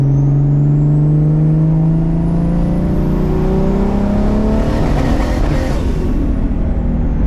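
A turbocharged 600whp Lexus IS300 engine revs under load from 2,500 to 7,000 RPM, its loud, rising drone sweeping steadily upward for several seconds before a breathy roar at the top, close and continuous with no talk.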